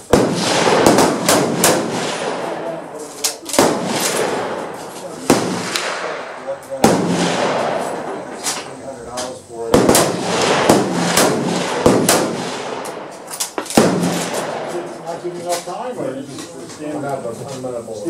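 Sharp, loud rifle shots from a Type 38 Japanese carbine ring out one at a time at irregular intervals of a few seconds, each followed by a short echoing tail, with no voices.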